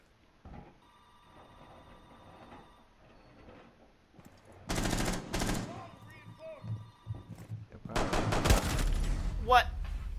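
Gunfire from Rainbow Six Siege on the Coastline map comes in two dense, loud rapid bursts separated by quieter moments, with players talking over the action.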